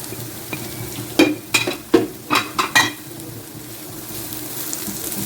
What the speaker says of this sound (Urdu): ہلکی آنچ پہ اب اسے فرائی کرنا ہے۔